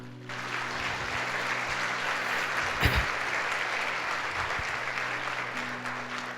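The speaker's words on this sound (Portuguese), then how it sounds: "Você quer aplaudir a ele?" A church congregation at a Sunday service applauds steadily for several seconds, a broad sustained wash of clapping with a brief louder burst near the middle and a low hum beneath.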